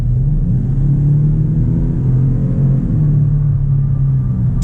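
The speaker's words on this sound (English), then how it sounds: "That turbo noise is pretty cool" A 2019 Ford F-150 Lariat Sport turbocharged engine accelerates with a deep, steady rumble and a rising turbo whine, heard from inside the cab, with no talking.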